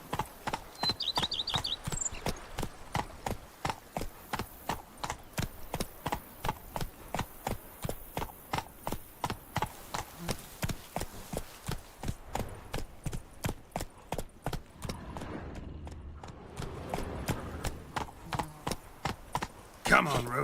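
Hoofbeats of Roach the horse in The Witcher 3 video game, a steady, evenly spaced clip-clop of trotting hooves running throughout, fairly close and clear, with a brief high chime early on and a faint voice later.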